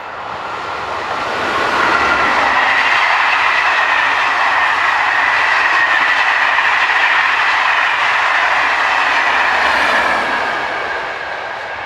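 A Belgian passenger train running from Mouscron to Ans, with locomotives 2704 and 2712 at either end, passes close by. A rushing, rumbling roar with rhythmic wheel clatter builds quickly, holds steady and fades away near the end.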